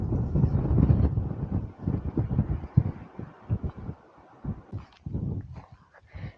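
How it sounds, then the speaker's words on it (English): Strong wind sweeps across a hilltop, buffeting the microphone in loud, gusting rumbles that rise and fall throughout, with no voices. "it's extremely windy up here"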